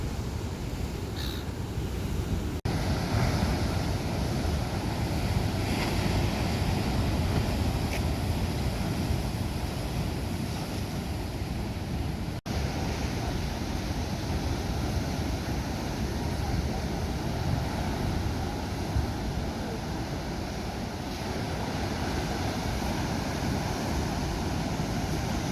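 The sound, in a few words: large ocean waves crashing against a pool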